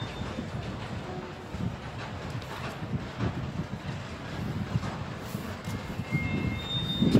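Unimat rail maintenance machine rolling past on a railway line, a steady loud rumble of wheels and machinery with some rhythmic clatter and a rising swell toward the end, no talking.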